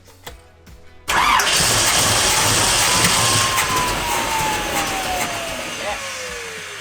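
A rebuilt Toyota LandCruiser engine cranks briefly, then catches and roars loudly to life, settling into a steady, gradually easing idle, heard up close.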